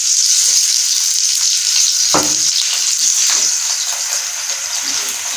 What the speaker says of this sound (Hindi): अभी इसमें हम थोड़ा घी भी डाल देंगे ताकि पराठा हमारा अच्छी तरह से पक जाए।